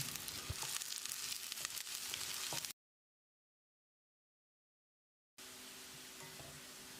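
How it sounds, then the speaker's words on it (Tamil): Finely chopped onions and curry leaves sizzle steadily as they sauté in hot oil for chicken curry, a close, even frying hiss broken by a few seconds of silence midway. "மீடியம் சைஸில் 2 பெரிய வெங்காயம் பொடியாக நறுக்கினது, கொஞ்சமாக கறிவேப்பிலையை சேர்த்து வெங்காயத்தை பொன்னிறமாக வதக்கிடலாம்."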